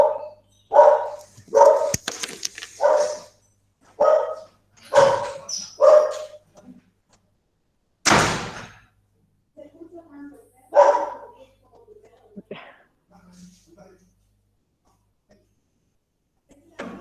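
A small pet dog barks repeatedly indoors, about a dozen sharp yappy barks in irregular bursts, loud and close, tapering into occasional yips with quiet gaps between.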